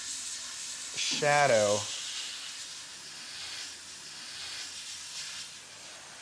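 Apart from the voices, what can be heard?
dual action airbrush spraying paint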